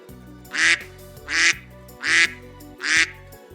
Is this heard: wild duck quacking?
yes